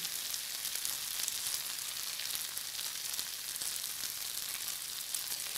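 Beaten salted eggs poured into hot oil for an egg and okra curry, frying with a dense, even, hissing crackle that holds steady throughout, close and alone.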